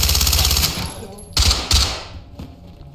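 Gunfire in the tactical shooter Ready Or Not, a loud close burst of rapid shots followed by a few heavy single reports that fade out, with voices in the background.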